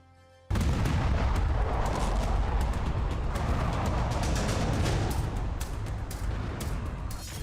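A high-caliber bomb is test-detonated by DRDO in Panchkula, Haryana: a sudden loud blast opens into a long, heavy, rumbling roar that holds steady with crackling bursts throughout.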